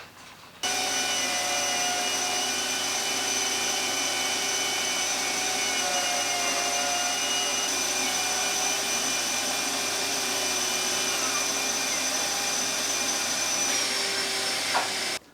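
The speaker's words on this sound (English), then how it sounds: "So let's crack on and route this out." Wood router cutting out a workbench tool holder, a loud, steady, high-pitched whine with airy noise that holds unbroken for about fourteen seconds, up close with no talking.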